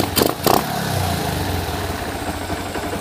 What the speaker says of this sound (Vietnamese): giờ mình nổ máy thử các bạn nghe nha